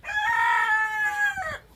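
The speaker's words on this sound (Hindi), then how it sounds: "देखो मुर्गी हमारी यहाँ पर घुस गई है, ये लगता है अंडा देने वाली है" A single hen, apparently about to lay an egg, gives a drawn-out, tonal squawking call lasting over a second, close and fairly loud, with no talking.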